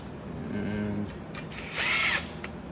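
A power drill drives screws into a bi-parting gate panel, with a short whirring burst early on and a louder, higher-pitched run near the end over steady background noise.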